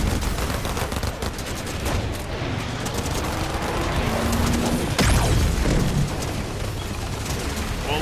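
Dense, sustained gunfire from the Fortnite video game, rapid overlapping shots and booms filling the whole stretch with barely a pause.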